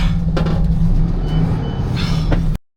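A truck being offloaded at an auction yard gives two short reversing beeps over a low idling engine, close by and fairly loud. The sound cuts off abruptly.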